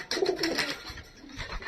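Pigeons kept at home during a food-short lockdown in Urumqi coo close by, a couple of soft rolling calls in the first half, then quieter room noise.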